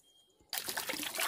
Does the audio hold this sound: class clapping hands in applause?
no